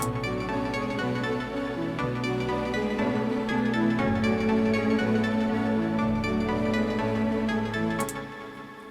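A dense, continuous music loop with sustained harmonic layers and a steady beat underneath, playing loud and full before fading slightly at the end.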